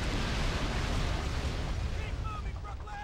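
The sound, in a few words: explosion in video game Call of Duty 2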